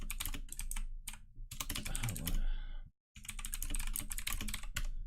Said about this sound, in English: I just did it because my keyboard is so fucking loud